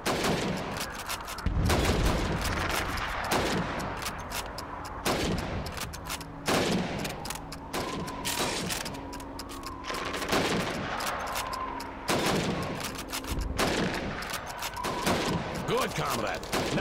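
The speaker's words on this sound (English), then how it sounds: "You have 15 seconds to shoot the helmets." Rifle fire on a Red Army training range in Call of Duty 2, shooting at helmet targets against the clock: a rapid string of sharp, loud shots in quick succession with brief gaps, and background voices speaking between them.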